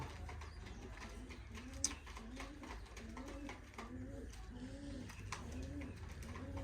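Pigeons coo in a steady series of soft, throaty, rolling calls, repeating every second or so at close range.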